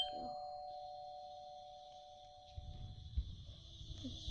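A doorbell rings with a sustained electronic tone that fades out, followed by quieter household rustling nearby.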